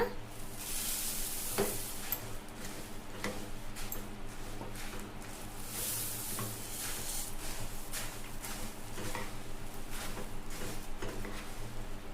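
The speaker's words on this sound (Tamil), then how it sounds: "ஸ்டவ் வந்துட்டு லோ ஃப்ளேமில் வச்சுட்டு நம்ம கொஞ்சம் கொஞ்சமாக பொரியை சேர்த்து கலந்துக்கலாங்க." Puffed rice stirred into jaggery syrup in a pan over low flame, a soft ongoing sizzle with repeated scraping and rustling stirs at a moderate distance, no talk.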